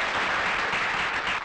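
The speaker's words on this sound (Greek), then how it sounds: "ένα θερμό χειροκρότημα για τη μεγάλη μας χορογράφο και χορεύτρια, κυρία Ναντήρα" Warm audience applause greeting a choreographer and dancer in a 1984 Greek film, dense sustained clapping from a crowd, loud and even before tapering slightly at the end.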